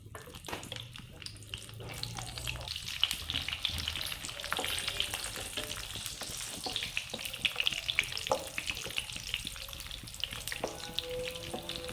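Food fries and sizzles in a pan while rava laddu is being made, a continuous bubbling crackle with occasional stirring scrapes and small clinks, fairly close and moderately quiet.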